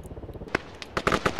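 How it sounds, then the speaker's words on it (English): Rapid bursts of Arma 3 video-game gunfire crackle in quick succession over a steady low rumble, sharp and fairly close, with no talking. "You can see there's lots of gunfire from Blue 4."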